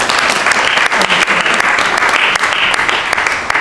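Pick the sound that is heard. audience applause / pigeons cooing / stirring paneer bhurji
audience applause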